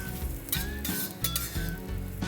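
Peppercorns frying in hot oil in a wok, a continuous crackling sizzle with repeated metallic scrapes and clinks of a spatula stirring against the pan, close and fairly loud.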